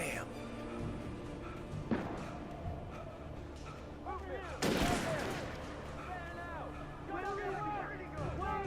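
Gunfire rings out in Alan Wake Remastered, with repeated shots and a loud burst near the middle, all under an ongoing game soundscape while people chatter over it.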